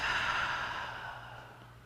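A single slow, airy exhale, close and soft, tapering off over about two seconds with no voice.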